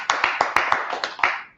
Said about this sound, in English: Let's clap it up for the brotherhood